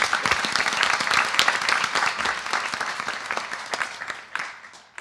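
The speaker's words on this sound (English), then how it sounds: "Let's give them a big round of applause" An audience claps at a community Navratri celebration, a dense burst of applause that holds steady for several seconds and then thins out.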